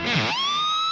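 A short electric guitar whammy bar dime squeal: a brief plucked attack snaps into a piercing high harmonic that bends upward and holds, loud and alone.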